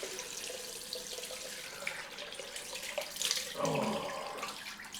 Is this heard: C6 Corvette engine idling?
no